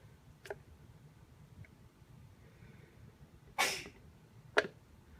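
A single sharp sneeze bursts out close by against a quiet room, with a couple of fainter clicks and breaths around it.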